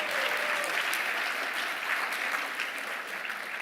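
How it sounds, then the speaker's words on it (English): An audience applauds after a live coding demo at a developer conference talk, dense, sustained clapping that fades only slightly over a few seconds, with a few cheers mixed in. "Can we give an applause to Mike for this amazing demo?"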